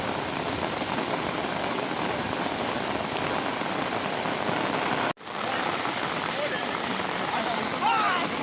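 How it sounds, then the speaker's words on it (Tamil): Heavy rain pours steadily in a dense, hissing wash over a flooded village, with a brief cut midway and faint voices underneath. "மழை தண்ணி அதிகமாக வருது பாருங்க"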